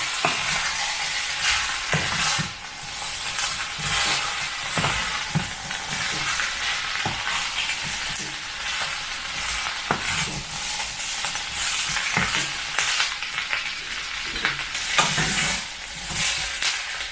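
Chopped pork stir-fried in a pan, a steady loud sizzle with repeated scraping and tossing strokes of a utensil throughout, no voices.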